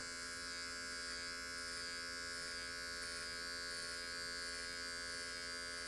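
An electric hair clipper buzzes steadily and close by, a constant high, thin whine over a low hum, used to cut a skin fade right down close.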